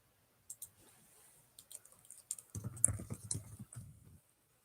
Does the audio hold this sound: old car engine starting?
no